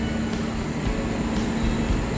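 The Majapahit passenger train rolls through Tegal station at night with a loud, steady, close rumble of wheels and carriages that never lets up.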